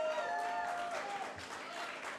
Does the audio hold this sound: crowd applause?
yes